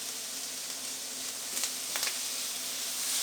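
Burrito filling sizzles and fries in a pan, a steady bright hiss up close with a few sharper pops and crackles partway through.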